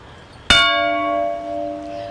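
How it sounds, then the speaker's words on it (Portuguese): A peace monument bell in a São Paulo city square is struck once, close and loud, its clear metallic tone ringing on and slowly decaying. "toda vez que você vê um sino numa praça,"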